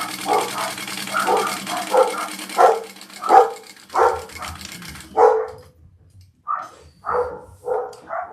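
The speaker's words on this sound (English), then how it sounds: "Sorry for the barking dogs." Several dogs bark repeatedly in short, uneven bursts nearby, the barking fairly loud and continuing throughout with brief pauses.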